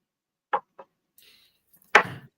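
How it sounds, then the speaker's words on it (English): A few sharp, isolated chopping knocks, two close together and then a louder one after a pause, sound faint and near in an otherwise quiet room. "It sounds like you chopping something or something."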